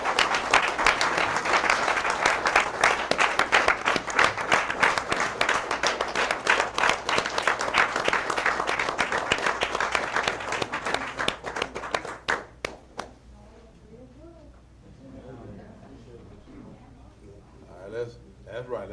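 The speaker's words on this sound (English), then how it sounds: "Let's give these folks a round of applause." A school board audience claps loudly and steadily for about twelve seconds after staff introductions, the applause dense and sustained before fading into quiet room noise with faint talk.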